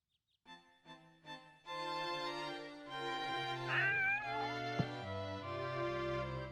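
A kitten meows in the video game Shadow of Memories: three short rising mews, then a sustained tonal game music or ambience swells in and continues under a brief higher cry, with a sharp click partway through.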